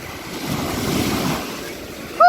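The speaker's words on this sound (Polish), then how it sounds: "Są fale małe." Small sea waves at a beach swell and wash in softly with wind noise. A brief voice is heard at the very end.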